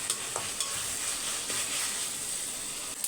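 Tomatoes sauté with salt in a pan, a steady close sizzle with a few soft stirring taps and scrapes scattered through it.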